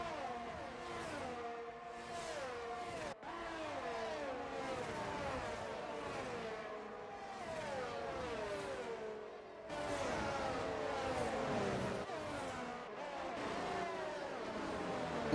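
F1 race cars in a racing video game run close together at the Netherlands GP, several engine notes rising and falling at once with gear shifts and overlapping whines, fairly faint.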